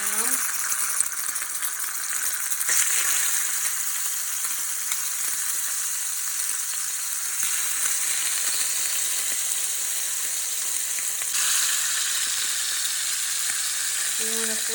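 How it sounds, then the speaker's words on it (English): Tuna searing in a hot pan gives a steady, dense sizzle and crackle that holds at an even level throughout, with no voices over it. "I'm gonna sear the tuna now"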